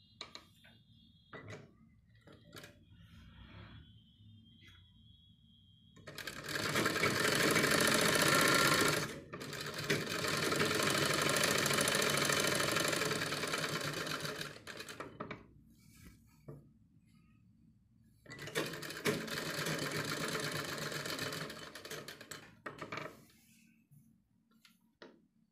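Sewing machine running in three long sustained bursts, stitching a neck patch with buckram, separated by pauses with faint handling clicks; close and fairly loud, no talk.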